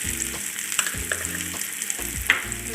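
Chopped ingredients for a bakery-style meat roll frying in hot oil, a steady close sizzle broken by repeated scraping stirs and small clinks of a spoon on the pan.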